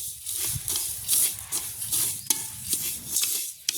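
Chillies and spices dry-roast in a pan for homemade chilli powder, with irregular scraping and rattling stirring strokes and light patter close by, and no speech.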